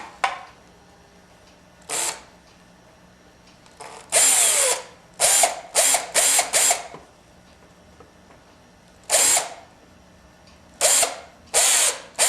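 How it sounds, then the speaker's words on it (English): A power drill whirs in a series of short, loud bursts with pauses between, some quick back-to-back pulses, close by in a quiet room, drilling out corners on a Mercedes 300D instrument cluster. "now we're going to drill out the four corners of this one and remove that one as well"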